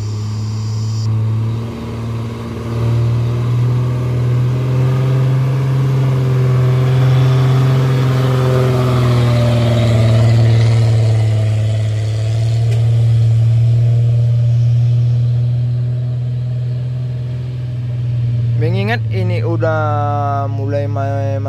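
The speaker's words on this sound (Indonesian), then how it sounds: "puso ini yang datang dari arah Medan ada mungkin kunjungan ke rumah saudara menanjak di Batu Jomba ini" A truck climbs the steep Batu Jomba incline, its engine droning loud and steady with a strong low hum. The revs rise and fall gradually, and a brief rising whine comes near the end.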